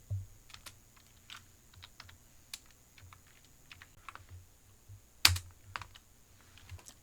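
Computer keyboard keys pressed in a quiet room at irregular intervals, with a spacebar and Enter among them, the taps soft apart from one sharper, louder keystroke near the end.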